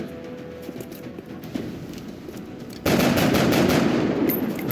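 Rapid gunfire bursts erupt in a first-person shooter game, a quieter stretch of scattered shots and footsteps giving way to loud, sustained automatic fire near the end.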